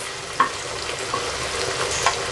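Chicken curry frying in a pan as chili, turmeric and cumin powders are stirred in, a steady close sizzle with a few sharp scraping clicks of the spoon.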